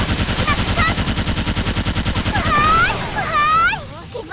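Rapid automatic gunfire from the Sword Art Online MMORPG, a fast even burst lasting about two and a half seconds that then stops, followed by rising electronic game tones and a voice speaking.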